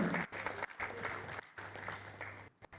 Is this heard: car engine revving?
no